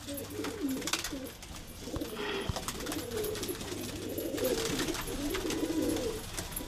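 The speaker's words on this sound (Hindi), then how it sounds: "देख लो भाई भाई ये हमारे कुछ कबूतर है" Several pigeons coo continuously nearby, soft throaty warbling calls overlapping in a steady rolling chorus against light background noise.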